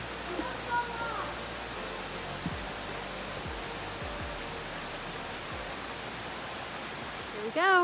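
A creek rushes steadily beneath a log bridge on a hike, its broad, even water noise filling the scene up close, with brief voices and footsteps on the log mixed in.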